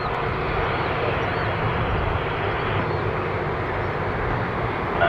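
An Embraer E195-E2 airliner takes off from runway 23 at Toronto Pearson, a steady broadband jet roar holding loud and even throughout, with no talk over it.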